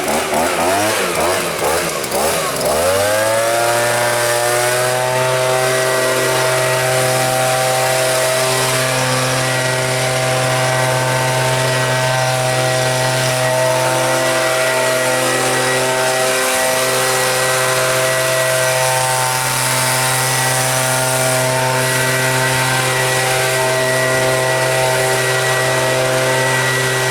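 Stihl leaf blower engine held at high speed, a loud steady two-stroke drone with strong even harmonics after a short rev-up, running close and alone without talk.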